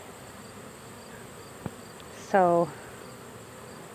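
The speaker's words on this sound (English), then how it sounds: "that's a lot of bees flying on the outside" Honey bees flying outside a hive that is being robbed, with one short, close buzz passing briefly over an otherwise quiet outdoor background.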